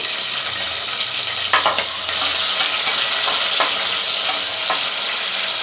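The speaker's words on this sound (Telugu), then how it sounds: "పచ్చిమిరకాయలు, ఉల్లిపాయలు రెండు వేస్తున్నాను." Green chillies and onions fry in a pan with a steady broad sizzle, and a few sharp stirring scrapes and clinks come through up close. No one speaks.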